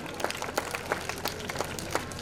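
Applause for a prize-winning child at a Republic Day prize distribution: a modest crowd claps steadily in a scattered patter, fairly even and not very loud.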